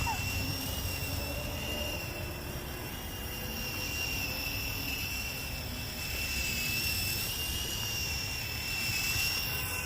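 A Sky Rover Vigilante toy drone hovers outdoors in gusty wind, its small motors giving a steady high whine over a constant low rumble of wind buffeting the microphone, with no breaks.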